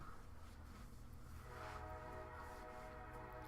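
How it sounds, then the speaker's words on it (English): A train rolls past at night, a steady loud rumble with a rising horn-like tone swelling midway and sustained metallic hum, no voices. "It's a train. Another train."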